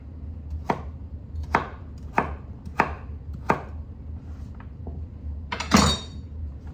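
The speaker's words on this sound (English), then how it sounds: "Sweet potato going chop up. All the provisions going chop up." Knife chopping sweet potato and other provisions for an Ital stew: five sharp, evenly spaced chops on a board, then a softer tap and a final louder clattering cut, close and clear with no talk.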